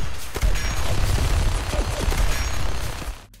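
Rifle gunfire in Fallout 4, a rapid burst of loud close shots with mechanical clatter over about three seconds, ending abruptly.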